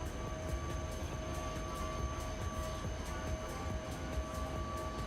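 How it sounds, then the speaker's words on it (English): A Pendolino train approaching in the SimRail train simulator game: a steady, faint rumble with a low drone and high tonal whine, continuous and distant throughout. "Got Pendolino coming our way."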